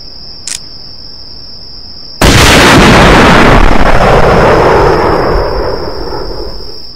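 One sharp, loud rifle shot from a hunt in Hunting Unlimited 2009 cracks out of a quiet night of steady cricket chirping, then fades in a long rolling echo.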